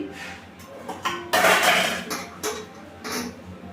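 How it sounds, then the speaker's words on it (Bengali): A kadai set down on a village stove, giving a few metallic knocks and clatters with one louder scraping clang near the middle, close by and with no talk. "কড়া চাপিয়ে দিয়েছি।"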